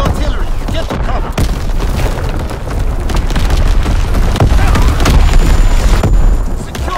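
Incoming enemy artillery in Call of Duty: WWII, a loud continuous barrage of heavy booms and explosions with crackling debris that sustains for several seconds under dense battlefield noise.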